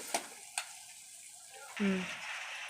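Onions and ginger paste frying in a pan for a potato curry cooked outdoors, a soft steady sizzle with a couple of sharp clicks early on and a louder stirring scrape near the end.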